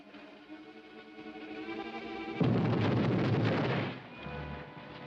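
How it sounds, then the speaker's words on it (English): Film sound effect of an explosion: a sudden loud, rumbling burst cuts in over a quieter sustained musical tone, holds as a harsh noisy blast for over a second, then falls back to a low rumble. "Explosion."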